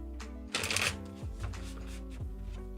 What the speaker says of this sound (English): I thought my deck was just going buck wild shuffling over here.